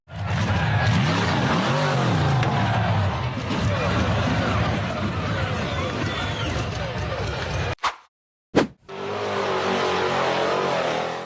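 A green steel-frame off-road buggy accelerates hard up a steep forest dirt slope, its engine loud and close with wavering revs, then cuts out abruptly before a short burst and a return of loud roaring.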